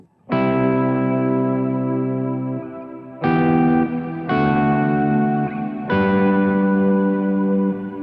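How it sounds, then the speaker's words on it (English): Electric guitar chords through a Revelation Reverb 2.0 pedal ring out loud and sustained, four strums in a row, each washed in lush reverb with a slightly distorted, spacious tail. "I can switch on the Revelation Reverb right there."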